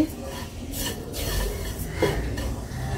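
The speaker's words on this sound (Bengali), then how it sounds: "ভালোভাবে মিশাই নিচ্ছি গুঁড়া দুধের সাথে।" Semai vermicelli being stirred with powdered milk in a pan for Eid barfi, giving steady scraping and clinking of a utensil against the pan, close and continuous without talk.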